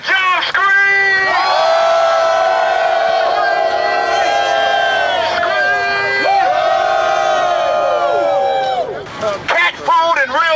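A protest crowd at an Occupy Detroit jobs rally screams and cheers, a loud sustained roar of many voices with whoops and shouts rising over it.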